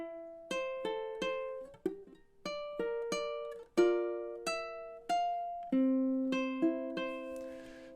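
Fingerpicked ukulele playing a passage of a song, bright plucked notes in an even arpeggio pattern with a longer held chord near the end, close and unaccompanied.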